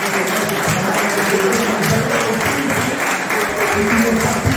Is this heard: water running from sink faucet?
no